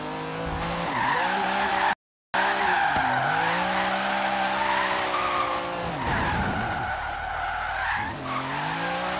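Car drifting on the e-brake in the video game Forza Horizon 3, with continuous loud tire squeal and engine revving wavering throughout, broken by a brief silent cut near two seconds.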